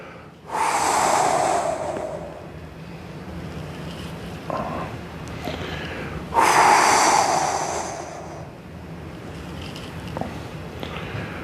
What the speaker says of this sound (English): Remember your breathing, exhale as you stretch.